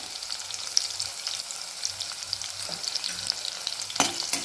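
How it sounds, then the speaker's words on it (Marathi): Crushed garlic frying in a hot pan with chillies, a steady soft sizzle with faint crackles and a sharper pop near the end, no talking. "आणि आता याच्यात हा जो क्रश केलेला लसूण होता तो टाकून घेऊया."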